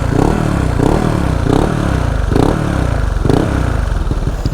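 Honda PCX 160 scooter (2021, bored up to 173cc) with a stock exhaust drilled out slightly, revving in repeated rhythmic bursts, loud and close, with a rough clattering engine note and no talk.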